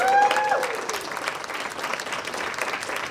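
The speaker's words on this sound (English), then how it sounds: "please give everybody a round of applause for their first work." Convention art panel attendees give a warm round of applause, steady clapping that lasts throughout, with a short voice at the start and faint chatter underneath.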